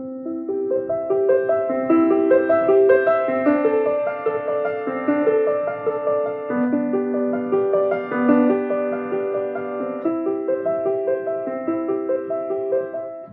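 Solo piano plays Bach's Prelude in C, flowing broken chords in a calm, even rhythm, each pattern repeating before moving to the next harmony.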